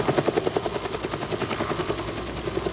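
Military helicopter gunships fly over a Vietnam War scene, their rotor blades beating a steady, rapid loud chop that fills the whole stretch with no talk.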